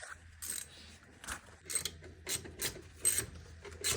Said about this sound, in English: Tightening them down. 4 bolts. Close that whole housing down.